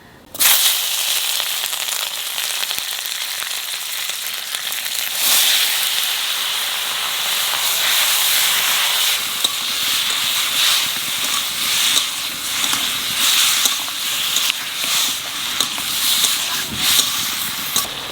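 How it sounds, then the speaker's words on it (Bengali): Mustard seeds hitting hot oil in a pan while a spicy chutney is being cooked, a loud steady hissing sputter with scattered sharp pops and crackles that continues throughout. "তেলের উপর দিয়ে দেবো সর্ষে"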